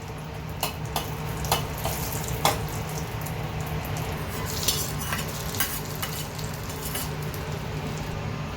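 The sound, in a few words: mustard seeds spluttering in hot oil for tempering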